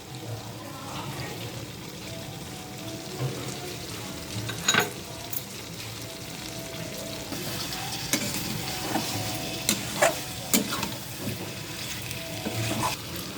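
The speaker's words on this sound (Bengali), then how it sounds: "এই যে কিছু কুচো ক্যাপসিকাম দিয়ে দিচ্ছে।" Chopped capsicum frying in a pan of chicken masala, a moderate steady sizzle with occasional stirring knocks and clatters, fairly close, with no clear talking.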